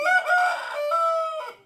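A rooster at a village house crows once, close and loud, in a single drawn-out call that falls away at the end.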